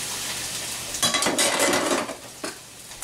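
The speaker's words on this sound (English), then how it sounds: "You know your pan is good and hot when you dump your vegetables in and you hear that sizzle." Tomatoes hit a hot pan with a loud sizzle that swells, hisses steadily for about a second, then fades into quieter frying.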